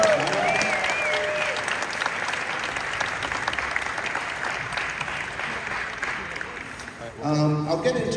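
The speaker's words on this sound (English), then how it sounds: "Round of applause for all of our Michael Myerses." Warm, sustained applause for a panel of Michael Myers actors at a reunion event, a broad wash of clapping with faint cheers that runs about seven seconds before a voice speaks over its tail.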